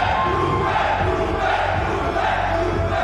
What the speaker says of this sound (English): This crowd is going loud, and they are not in support of Jaleel.